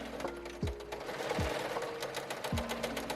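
A sewing machine stitches an elastic casing on a corset dress, a quiet, close, rapid mechanical whirr broken by a few short stops and restarts.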